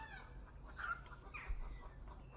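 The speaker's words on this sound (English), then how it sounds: "our hens in the background are afraid of the new cats" Hens cluck faintly in the background of a garden, a few soft clucks rising over low outdoor rumble with no one talking.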